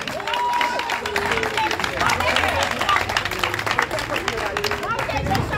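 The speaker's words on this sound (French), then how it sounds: "Je vous demande de les applaudir." Applause from an audience at a commemoration ceremony in Pointe-à-Pitre, honouring middle school students; continuous clapping mixed with crowd murmur and chatter throughout.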